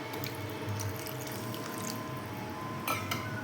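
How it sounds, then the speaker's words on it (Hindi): Half a bowl of water is poured into paneer tikka masala in a home kitchen, a soft, steady trickle and splash with a few brief clinks, fairly quiet throughout. "इसमें डाल देंगे आधा कटोरी पानी।"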